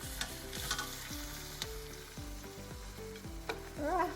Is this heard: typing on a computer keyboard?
no